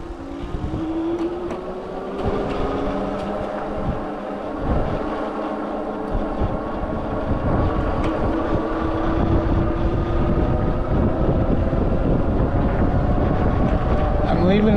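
Kingbull Literider electric bikes accelerating together at full throttle outdoors, a rising motor whine with steady wind rush that builds and holds loud to the end, with voices talking over it.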